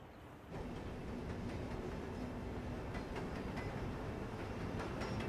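A train runs on rails with a steady rumbling roar that starts suddenly and carries on throughout, marked by faint periodic clicks and clatter, fairly close and unbroken.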